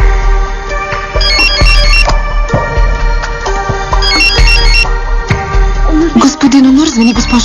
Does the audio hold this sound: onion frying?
no